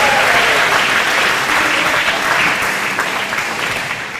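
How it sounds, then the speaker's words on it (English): A banquet crowd at a university athletic hall of fame dinner gives loud, dense, sustained applause that fills the room and eases slightly toward the end. "special round of applause to those who made the food, those who served the food"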